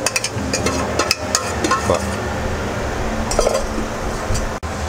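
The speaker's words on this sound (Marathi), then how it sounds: "तर ही वेगळ्या प्लेटमध्ये आता ही भेळ काढून घेतली जाईल" Bhel being scooped onto a separate decorative plate at a Sangli street-food stall, with repeated light clinks of a spoon against plates and utensils over steady busy street noise.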